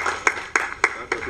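Handclaps at a retirement felicitation ceremony of the Chennai Port Authority: four sharp, evenly spaced claps in quick succession, close and distinct rather than a full crowd's roar.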